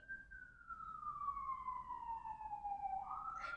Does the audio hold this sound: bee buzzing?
no